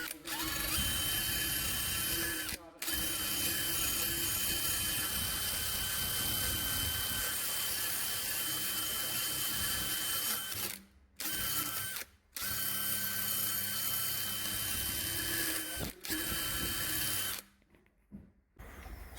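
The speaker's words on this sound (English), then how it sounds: "Much thicker wire on this, so it should strip it a bit quicker." Thick wire brush on a power tool stripping paint from an Escort RS Turbo car body, a loud continuous grinding whir broken by a few brief pauses and restarts, with no voices.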